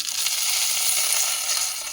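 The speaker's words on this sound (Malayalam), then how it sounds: "ഈ താളിപ്പ് നമ്മുടെ കറിയിലേക്ക് ഒഴിച്ചു കൊടുക്കാം." A hot sizzling tempering is poured into a restaurant-style vegetable kuruma curry, giving a loud, steady hiss of frying that holds evenly for the whole moment with no voices.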